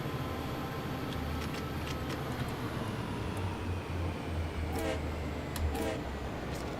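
Passing train in the Train Sim World 2 simulator, a low rumbling run with a few short horn toots in the middle and later, plus faint clanks, the engine staying continuous with no talk.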